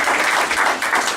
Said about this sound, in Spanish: denle un aplauso fuerte a nuestro Señor Jesús